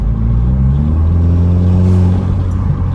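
Loud engine drone from inside a turbocharged Audi with an aftermarket intake, a fluttering, chattering turbo whoosh over the low rumble, steady throughout.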